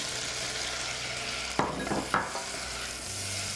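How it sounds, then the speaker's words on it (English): Red onion fries in foaming butter with a steady crackling sizzle, broken by two sharp clatters of a pan or utensil stirring before the sizzling settles back to an even hiss. "My butter is foaming beautifully, so in goes the red onion."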